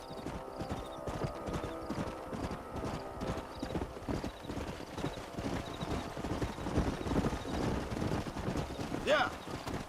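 Horses' hooves clip-clop steadily in the Western video game Red Dead Redemption, a busy rhythmic trot under low background voices, with a brief neigh rising near the end.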